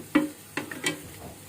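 Banana flower being stirred and fried with spices in a pan over medium heat, giving three or four soft scraping, sizzling stir strokes spaced across a short stretch, close and fairly quiet.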